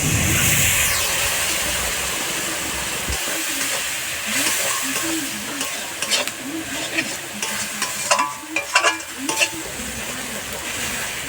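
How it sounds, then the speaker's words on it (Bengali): Garlic sizzling and frying in a pan for a Bengali ghugni, with a steady hiss throughout and a spoon stirring and scraping at intervals, louder clinks toward the end. "এক মিনিট ওইভাবেই রসুনটাকে আমরা এক মিনিট ধরে কষিয়ে নেব"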